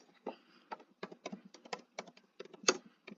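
Rapid, uneven clicks of typing on a computer keyboard, close and fairly quiet, in short bursts with brief pauses.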